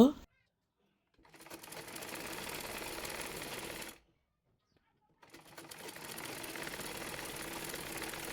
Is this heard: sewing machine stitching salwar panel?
yes